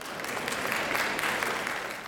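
An audience at the GESS 2020 education event claps hands together in a steady, dense wash of applause, sustained and even throughout without a clear break.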